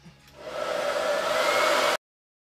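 Hair dryer blowing on freshly painted wood furniture, spinning up after a soft start into a steady loud whoosh with a humming tone, then cutting off abruptly, with no talk.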